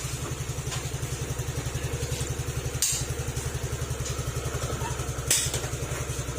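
A freshly assembled Suzuki Address scooter engine idles steadily with a fast, even putter and a light mechanical clatter, close and continuous, with a couple of sharp knocks.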